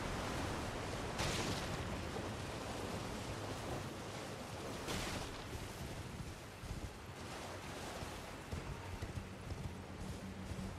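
Rushing waterfall in the video game Elden Ring: Shadow of the Erdtree, a constant broadband roar of falling water with a few brief surges, no talk.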